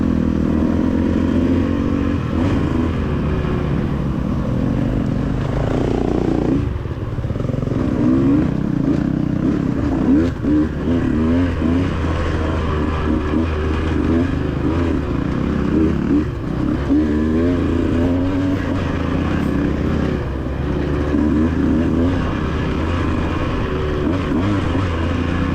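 Off-road race motorcycle carrying momentum through rocky corners, a loud continuous engine drone rising and falling with throttle changes and clattering over rough ground, close to the rider throughout.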